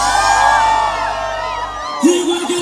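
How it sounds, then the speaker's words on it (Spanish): Drunken whoops and shouts rise from a crowd at a live concert in Santa María, loud and close over band music, with a sharp yell near the end. "el grito de los borrachos"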